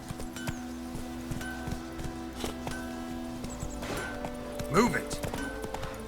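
Roach the horse clip-clops steadily in The Witcher 3, hoofbeats ticking at a walking pace over a game soundscape, with someone speaking briefly near the end over the hooves.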